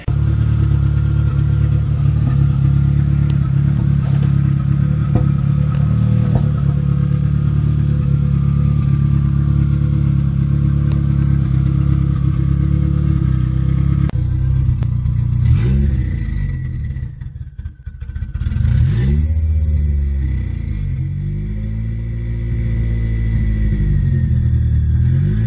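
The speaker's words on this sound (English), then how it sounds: "A couple of clips here I'm going to put in of the car running today." A Nissan S13 with a swapped SR20DET engine idles in a steady, deep rumble, then revs up and settles back a few times. The recording sounds slightly rough, as if made on a phone, and no one talks.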